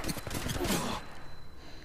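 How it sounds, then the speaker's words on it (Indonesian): Rapid gunfire bursts in the Apex Legends Mobile battle royale game, a dense crackling volley for about a second, then fading to quieter game ambience. "Gue lagi jalan ke safe zone dan di sini gue ditembak."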